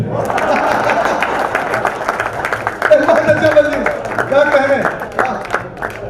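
An audience claps steadily throughout at a Haryanvi comedy poetry show (hasya kavi sammelan), a dense, sustained patter of many hands with a voice speaking loudly over it.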